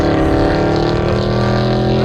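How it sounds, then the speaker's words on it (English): Dodge Charger with a loud aftermarket exhaust rumbling nearby in traffic, a deep, continuous droning engine note heard briefly and loudly. "It's a Dodge Charger with some kind of loud exhaust system."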